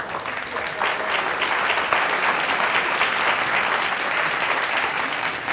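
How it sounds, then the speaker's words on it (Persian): A studio audience on a Persian TV game show breaks into sustained, dense applause that stays loud and steady from start to finish. "بسیار عالی، تشویقش کنیم."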